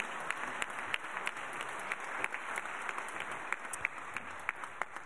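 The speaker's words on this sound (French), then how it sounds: "et ben on peut les applaudir, nos médaillés également." An audience applauds medal-winning competitors at a regional team reception for a skills championship, with steady, continuous clapping and sharp individual claps standing out throughout.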